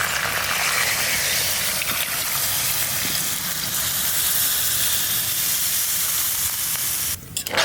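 Water is poured into a pan of browned farm quail meat, cooked village style, and sets off a loud, continuous steamy hiss and sizzle that holds steady and then cuts out abruptly near the end.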